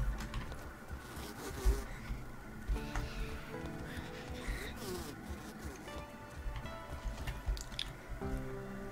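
Buzzing insects in the video game Grounded, where a spider fights mosquitoes; a steady, layered hum and whine of wings runs throughout alongside dripping water and game ambience, with no talk.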